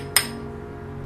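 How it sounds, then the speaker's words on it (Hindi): Single sharp metallic tap on a hard metal-bodied manual camera lens, one brief clink close by that fades quickly over faint background hum. "Sound of real metal."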